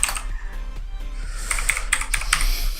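Python code being typed on a computer keyboard, a close run of quick, uneven key clicks and taps, denser toward the end, with no talking.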